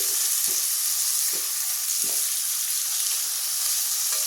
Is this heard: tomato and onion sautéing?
yes